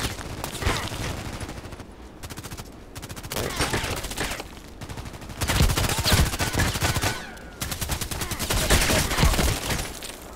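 Bursts of rapid automatic gunfire in the online shooter Contract Wars, loud and dense, coming in several volleys separated by brief lulls, with no talking over it.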